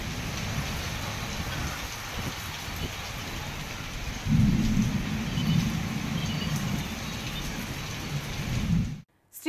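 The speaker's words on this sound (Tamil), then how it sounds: "இடி மின்னலுடன் அரை மணி நேரம் மழை கொட்டியது" Heavy summer rain with thunder pours steadily over Kovilpatti-area town surroundings in Tamil Nadu, a dense continuous roar of downpour with a deeper rumbling swell of thunder midway, loud and close, ending abruptly.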